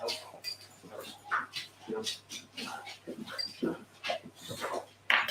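Soft whimpers and whines from two dogs come and go close by, mixed with small shuffling noises and quiet movement around the room.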